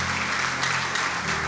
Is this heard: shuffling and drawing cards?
no